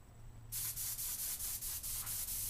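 Airbrush gun spraying a small amount of cleaner, a sudden loud hissing rush of air that starts abruptly and pulses steadily for about two seconds, close to the listener.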